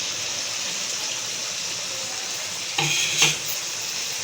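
Chopped onion goes into hot oil for chicken karahi: a steady, bright sizzle, then a sudden louder burst of hissing and crackling as the onion hits the pan, with no one talking.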